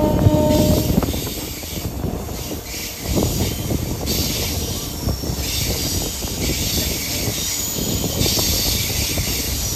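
A local train runs on rails between Mechеda and Panskura toward Raghunathbari, a steady loud rumble with hiss and clatter throughout, rising and falling slightly, with no talk over it.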